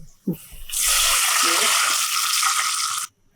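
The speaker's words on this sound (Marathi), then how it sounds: "याच वाटीने आता सव्वा वाटी पाणी घालणार आहे" Water pours steadily into a clay pot for a couple of seconds, a loud continuous splashing rush that stops abruptly.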